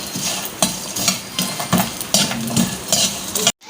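Edible gum (gond) frying in hot oil in a pan for panjiri, a continuous close sizzle broken by repeated scraping stirs at a steady rhythm, stopping abruptly at the end.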